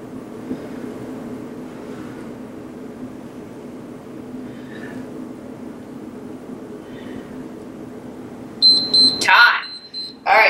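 Workout interval timer beeping sharply near the end, a few loud electronic tones cutting in over a low steady background hum during a women's strength training session.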